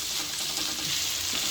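Onions and a few chillies frying gently in a pan, a steady soft sizzle and hiss that stays even throughout with no voices.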